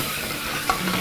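Chopped tomatoes stirred and mixed into potato sabji in a hot pan, a loud continuous sizzle with a couple of quick scraping knocks from the spoon.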